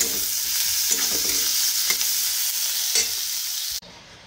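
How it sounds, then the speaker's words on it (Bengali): Vegetables frying in a pan for mashed potato, a steady close sizzle with a few stirring scrapes throughout, cutting off abruptly near the end. "দিয়ে একটু আলু সেদ্ধ মাখবো, তাই এগুলো একটু ভেজে নিচ্ছি"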